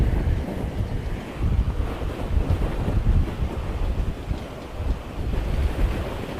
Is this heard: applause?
no